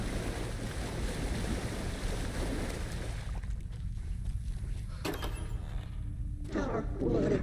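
Murky underwater ambience from the video game Alan Wake II, a dense rushing, surging wash of low water noise that thins partway through, with a few faint clicks and swells near the end.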